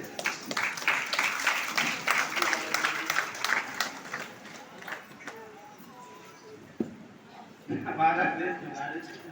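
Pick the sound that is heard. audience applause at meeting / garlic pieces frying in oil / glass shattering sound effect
audience applause at meeting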